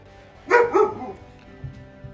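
Laika, a pet dog, gives two quick close barks followed by a couple of faint softer yips, with quiet background hum and no talking.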